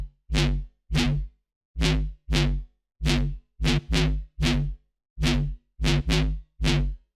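Lead Insane, a full, big-sounding synth lead preset from a bass house sample pack, plays short punchy stabs in a syncopated pattern. Each hit is loud and clipped, with silent gaps between phrases.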